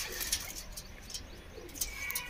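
Pigeons for sale in Punjab coo softly nearby, with a few chirps and faint flutters over quiet background noise.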